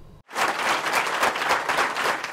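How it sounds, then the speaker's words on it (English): A school board meeting room full of people bursts into applause after a brief silence, sustained clapping that stays loud and dense to the end. "A room full of applause met the District 204 board's decision"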